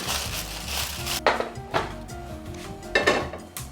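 A metal pan and utensils clink and scrape in a kitchen while beef gravy is strained through, giving several sharp, close knocks over a quiet background.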